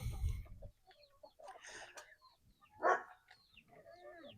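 Chickens in a backyard coop give a few faint, scattered clucks and short calls against a quiet outdoor background, with no one talking.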